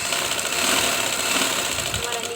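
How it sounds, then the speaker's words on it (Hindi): A sewing machine stitches a kameez sleeve up close, giving a fast, continuous mechanical whirring rattle across the whole short stretch. "फिर बाद में हमने इसे सिलाई करना शुरू कर देना है"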